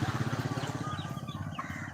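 Chickens foraging outdoors on a farm give a steady run of rhythmic, close clucking that pulses on for the full two seconds with no talk over it.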